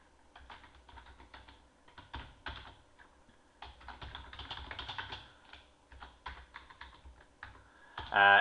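Steady typing on a computer keyboard while coding in C, a quiet, irregular patter of key clicks in bursts with short pauses, close to the microphone and with no talking.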